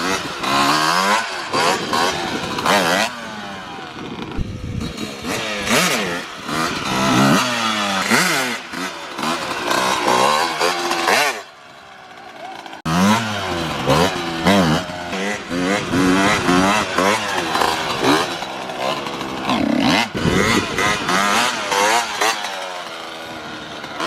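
A Kawasaki KX125 two-stroke dirt bike engine revs hard and repeatedly during wheelies, its loud rising and falling whine filling the air, with a brief dip around the middle before winding up again.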